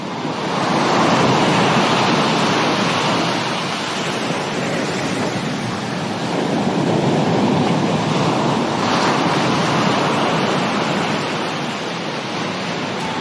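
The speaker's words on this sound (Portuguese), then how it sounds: "Da praia de Umhlanga, banhada pelo Oceano Índico" Surf at Umhlanga beach on the Indian Ocean near Durban, a loud continuous roar of breaking waves with wind rushing across the microphone.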